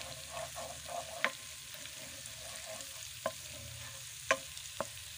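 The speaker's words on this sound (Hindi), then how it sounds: "ये लहसुन अदरक फ्राई हो गया है।" Garlic and ginger frying in a pan for a chicken kaleji masala, a soft continuous sizzle broken by a few sharp clinks of a spoon against the pan, with no talking.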